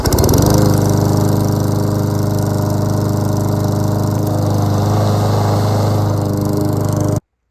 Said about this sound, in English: I'm moving onto this lawnmower here. Pretty sure it'll start first bolt.